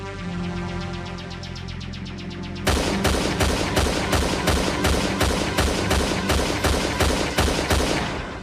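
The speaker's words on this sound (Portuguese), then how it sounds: "Cada vez dá mais tiros, numa carreira de tiro." A cartoon policeman fires a gun on a shooting range. A steady, rapid string of loud, evenly spaced shots starts partway through and carries on to the end, with no voices.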